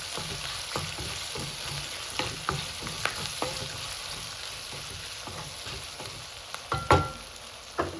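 Ginger paste and rock salt are stirred in a sizzling pan, with a steady fry hiss broken by repeated scraping knocks of the spoon against the pan, the loudest near the end.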